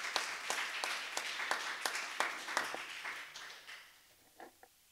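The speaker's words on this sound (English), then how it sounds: "So let's give them a big round of applause." A church congregation claps during a Sunday service, a fairly faint burst of rhythmic group applause that thins out and fades, ending with a few scattered claps.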